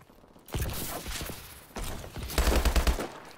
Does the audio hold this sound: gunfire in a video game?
yes